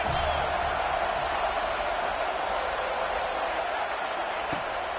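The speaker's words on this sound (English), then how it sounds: "this crowd is at fever pitch" A football stadium crowd during a third-down play in the red zone makes a dense, sustained roar with no breaks, a broad wash of massed voices and cheering at steady volume.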